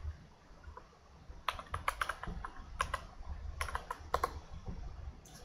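Computer keyboard typing while a JavaScript code file is created, a few quiet clusters of close key clicks with pauses between, no talking.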